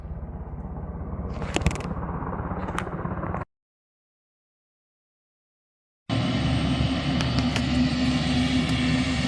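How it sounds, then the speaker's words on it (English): A steady, loud helicopter engine roar overhead cuts out abruptly to silence for a couple of seconds, then resumes just as loud and droning. "It looks like the sheriff's department sent a helicopter out"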